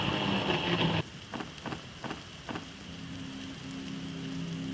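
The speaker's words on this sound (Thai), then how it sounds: "มันฝนตกหนักเกินไปแล้วมันแรงมาก" Heavy rain pounds down in a loud dense wash that suddenly drops to a softer steady patter, with a few sharp knocks and a low hum underneath.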